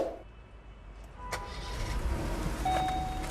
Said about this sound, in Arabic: هتلاقي حتى العربيه بدايه صوتها واطي لان هي محركه صغير مش كبير